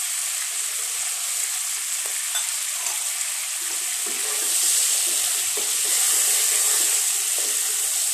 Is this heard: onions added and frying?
yes